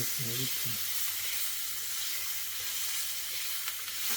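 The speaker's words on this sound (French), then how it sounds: "je fais revenir l'oignon, l'ail" Onion and garlic frying in a hot pan give a steady, close sizzle and hiss that runs the whole way through, with a short burst of speech near the start.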